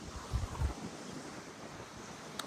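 Steady wind buffets the microphone on an open sand cay at sunset, a constant rushing roar with a few low gusty thumps early on and no voices.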